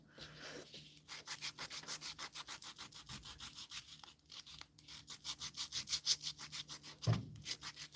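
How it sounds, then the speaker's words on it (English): Sandpaper rubbed back and forth on a wooden necklace piece makes a quiet, rhythmic scratching, about two strokes per second, close up and with no voices. "sand it with the sandpaper, it's a little easier for me."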